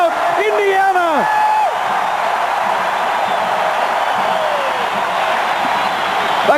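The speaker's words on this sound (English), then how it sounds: "The crowd's in an absolute frenzy here in Lawrence." Packed basketball arena crowd in Lawrence roars in a frenzy at an Indiana at Kansas game, a loud, sustained wall of cheering with yells and whoops rising over it and no break.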